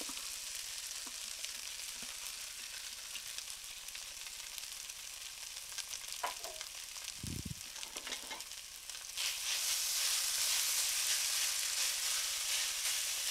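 Squash sizzles gently in butter in a pan with some scattered clicks, the broadband frying hiss rising noticeably louder and steadier during the final few seconds.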